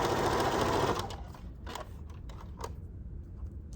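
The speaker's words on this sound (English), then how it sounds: "I'm going to continue stitching all the way down" A sewing machine runs fast, stitching a quarter-inch seam on a square pillow: a dense rapid chatter for about a second, then slowing to a few scattered clicks over a low hum.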